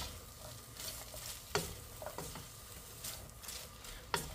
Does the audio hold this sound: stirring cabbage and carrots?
yes